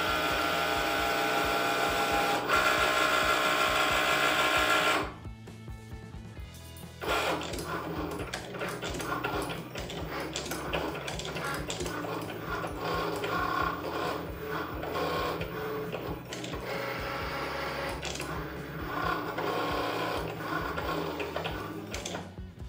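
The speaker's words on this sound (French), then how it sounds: "je peux donc appuyer pour démarrer le projet" A Cricut Maker cutting machine drawing with a red pen, giving a steady whirring motor with rhythmic mechanical ratcheting and clicking carriage movements, heard alone and close up for the length of the clip.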